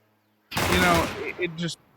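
Gunfire in a Counter-Strike match on the Dust2 map at a professional esports tournament: a dense burst of shots packed into about a second, followed by a few shorter bursts, loud and close.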